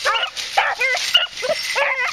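A kennel dog barking and whimpering close and loud, a run of short high yips and whines in quick succession.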